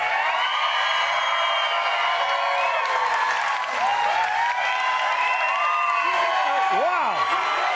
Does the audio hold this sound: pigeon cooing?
no